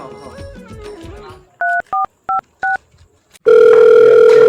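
Telephone keypad dialing to call a village head: four clear beeping tones in even succession, a brief pause, then a loud steady ringback tone starting, with muffled talk faintly beforehand.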